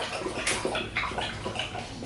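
Rapid wet lapping of water by an American Bulldog, a steady run of small splashy laps close by with no talking.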